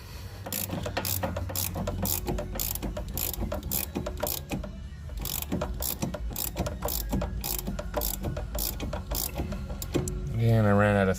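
A ratchet tightens a threaded bolt while pressing a front control arm bushing on a 2006 Dodge Magnum, making rapid, evenly spaced loud clicks close by that continue for about ten seconds, ending in a brief voice.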